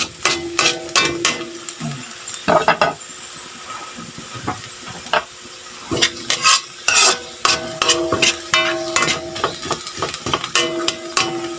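Okra with garlic tossed and stir-fried in cooking oil, with repeated scraping and stirring strokes of a utensil against the pan over a light sizzle, in bursts with short pauses.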